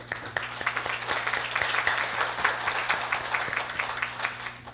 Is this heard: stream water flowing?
no